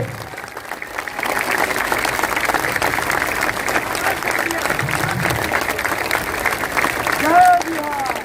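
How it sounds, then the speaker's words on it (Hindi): Loud, sustained applause fills a crowded Jan Suraaj party gathering, dense clapping rolling on for several seconds with crowd noise and a voice heard over it. "ताली, जोर से ताली बजाइए"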